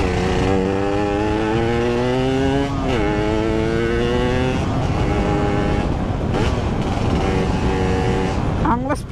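A Yamaha RX King two-stroke motorcycle engine revs hard and close, its pitch climbing and dropping in repeated sweeps with a raspy, buzzy tone across the whole stretch.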